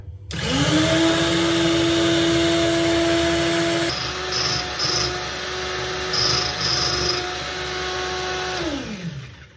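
A Procraft EBS 420 drill bit sharpener motor whines up to a steady pitch, then a grinding rasp runs continuously with brief scraping bursts as a drill bit is sharpened, before the machine spins down.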